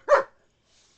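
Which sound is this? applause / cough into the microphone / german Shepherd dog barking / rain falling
german Shepherd dog barking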